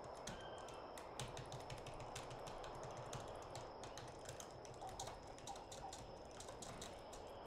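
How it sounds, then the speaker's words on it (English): Computer keyboard keys click in a fast, steady run of light taps while a dinosaur survival video game is played, quiet and close with no speech. "If you're hearing me clicking all the buttons, that means I'm clicking A, W, S, date, space, shift, run, E."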